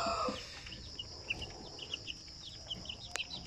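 Pure Zampen native chicks about one month old peeping in a small group, with repeated short high chirps scattered throughout at a moderate distance, faint and alone apart from a brief louder rustle.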